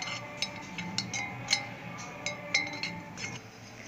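Green papaya salad is tossed in a bowl, giving light, irregular clinks and taps against the bowl, soft and fairly close, with no speech.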